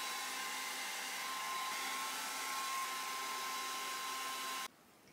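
A hair dryer blows hair dry with a steady, even whirring rush that stops abruptly near the end, leaving near silence.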